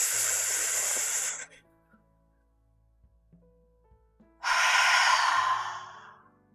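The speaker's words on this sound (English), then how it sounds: "We pause before exhaling through our mouth." Slow, deliberate exhalation through the mouth during meditation breathing, two long close airy breaths separated by a quiet pause over a soft musical drone.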